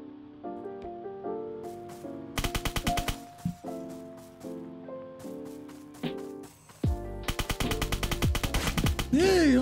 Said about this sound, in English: I'm not used to this recoil, buddy. This gun's crazy.